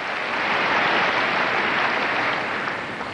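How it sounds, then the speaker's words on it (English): Tennis crowd at the Festhalle in Frankfurt clapping in unison during a 1995 ATP Tour round-robin match between Pete Sampras and Boris Becker, a loud, dense and sustained wall of applause filling the hall without speech. "They clap in unison."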